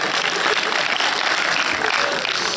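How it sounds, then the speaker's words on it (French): A crowd of people applauds at a film premiere screening, a dense steady wash of clapping that stays loud and unbroken throughout. "quelqu'un applaudit"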